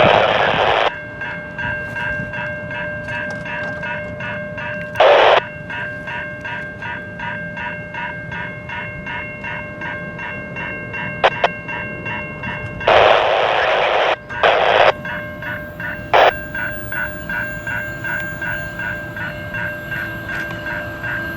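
Freight train CNQ101 from the Brampton Intermodal Terminal, bound for Roberts Bank, BC, rolls past Richmond Hill GO Station with a sustained tonal drone. Loud abrupt bursts break in around the fifth and thirteenth seconds and again shortly after.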